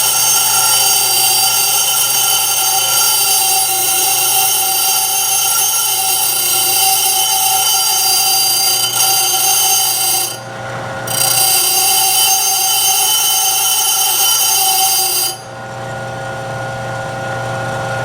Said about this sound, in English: I'm going to slightly bring the tool over a little bit to my left while I grind this.